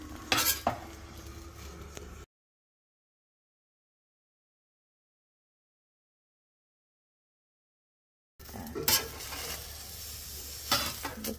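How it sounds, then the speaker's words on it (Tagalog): Eggplant slices fry without oil in a Saladmaster pan, with soft sizzling and a few utensil scrapes heard close by in two short stretches separated by a long silent gap. "Frying eggplants without oil."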